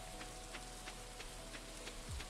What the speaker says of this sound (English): Wonderful rainy day, which means it's going to be a wonderful day for fishing.